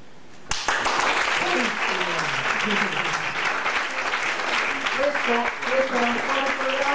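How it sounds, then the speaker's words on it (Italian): A theatre audience bursts into sustained applause that fills the hall after a Hamlet monologue, steady dense clapping with a few voices rising beneath it throughout. "l'applauso è piaciuto a tutti"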